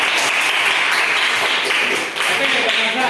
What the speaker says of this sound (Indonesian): Tepuk tangan dulu dong Pak Kansa nih